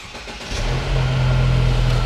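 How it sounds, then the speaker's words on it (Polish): A car engine cranks and catches, then settles into a steady, loud low rumble that continues to the end. "Dobra, silnik zaczął pracować"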